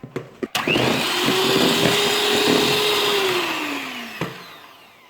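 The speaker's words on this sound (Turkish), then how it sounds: "Bunu köpük köpük olana kadar çırpacağız" An electric mixer whisks sponge cake batter in a bowl, a loud steady motor whine with a rising then falling pitch, bracketed by short clatters as it starts and stops.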